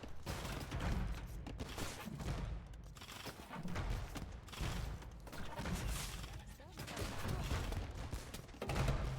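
Rocket cart firing in a 3v3 strategy game match: repeated volleys of booming launches and thuds in uneven bursts, mixed with battle noise under steady commentary.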